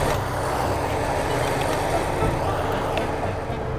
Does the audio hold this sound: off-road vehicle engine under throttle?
yes